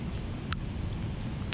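Steady rain falls during an outdoor crappie fishing trip, a constant, moderately loud hiss of drops with two brief faint clicks over the short stretch.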